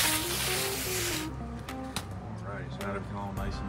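Water sprayed onto a large batch of dirt-based bioactive substrate mix for snake cages: a loud hissing spray burst for just over a second, then someone talks over faint handling noises.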